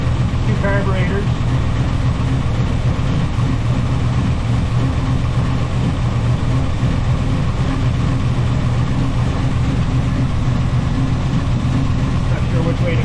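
A Pontiac engine fitted with two carburetors idles at a steady low rumble, loud and constant throughout, with a faint higher whine running over it.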